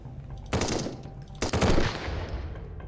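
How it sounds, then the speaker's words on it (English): Gunfire in the Sunkenland survival game, with two loud bursts of rapid automatic shots about a second apart, each trailing off into a short echoing tail, with no talk. "Man, this gun, it is definitely the best gun in the game that you can get."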